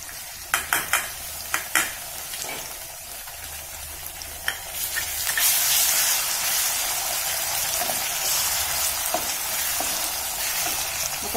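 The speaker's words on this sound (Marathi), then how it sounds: "लसूण अद्रक पेस्ट 1 चमचा." Garlic-ginger paste and curry leaves go into a pan of hot oil for paneer bhurji: a few sharp clinks of a spoon on metal, then a loud, sustained sizzle that spreads and holds steady, without voices.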